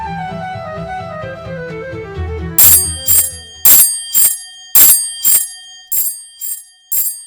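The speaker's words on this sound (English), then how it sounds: "From the way they are leaning on the bell, I deduce that it's someone who is desperate to solve a baffling mystery." A doorbell is rung insistently at a house doorstep, a run of about nine sharp bright rings in quick succession, loud and close, following a soft musical passage.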